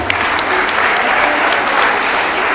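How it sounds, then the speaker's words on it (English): Audience applause at a kids' podium competition show, a steady dense wash of clapping filling the room from start to finish with no talk over it. "Just give her a round of applause."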